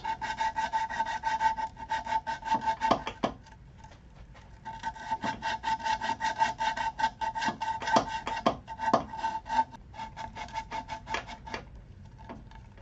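Hand-sanding the rounded edges and yarn hole of a wooden yarn bowl, with steady close rasping strokes in quick rhythmic bursts that stop for short pauses and then resume.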